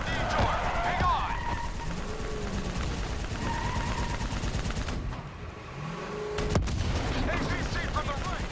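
Sustained gunfire in the Call of Duty Black Ops 3 campaign, a dense battle of rapid shots and clatter under shouted voices, with a brief lull before the firing picks back up.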